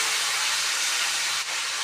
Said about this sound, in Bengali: মাছটা দিয়ে দেবো আমি, বেশি ফ্রাই করব না, হালকা একটু ভেজে নেব।